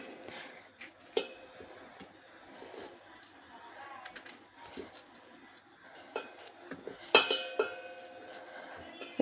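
A knife cuts tomatoes into large pieces for pickle, giving sparse light taps and clicks against a board with an occasional sharper clatter, all fairly faint and close.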